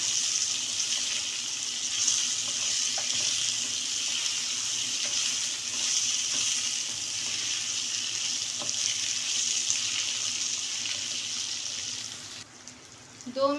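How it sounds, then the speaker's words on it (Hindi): Mango pickle mixture fries in a pan with a steady, broad sizzle that runs loud and close for most of the stretch, dropping off near the end with a brief clatter. "दो मिनट हम इसको फ्राई करेंगे अच्छी तरीके से।"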